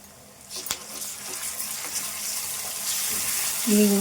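Garlic paste dropped into hot oil in a pan for a prawn curry, giving a steady broadband sizzle that grows louder toward the end, with a brief splash and clatter near the close.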